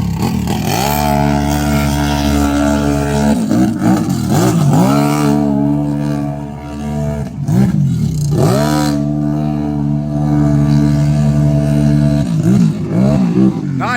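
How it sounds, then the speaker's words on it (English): A big-tire four-wheeler quad races over giant washed-out dirt jumps, its engine loud and close, revving hard in repeated surges that climb in pitch and dip between jumps, with a voice talking over it. "racing this four-wheeler in the big tire class with the giant jumps that are all washed out."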